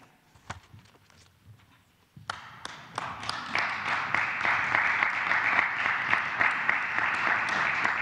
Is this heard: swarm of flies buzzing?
no